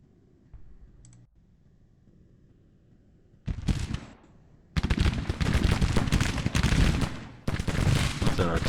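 Artillery and rifle fire in Grand Tactician: The Civil War, a Civil War strategy game, starts after a quiet stretch and builds into dense, continuous crackling volleys with a brief break near the end.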